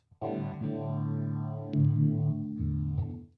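An electric guitar plays a clean tone through a small Lekato cube amp, with a few sustained, ringing notes and chords close up and no voice.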